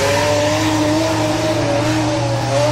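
A Nissan 350Z drift car under full throttle on a circuit, its engine note droning loud and close with rising tonal harmonics and a broad hiss of tyre noise, sustained without a break.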